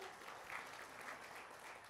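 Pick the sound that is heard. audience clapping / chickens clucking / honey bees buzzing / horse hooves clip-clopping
audience clapping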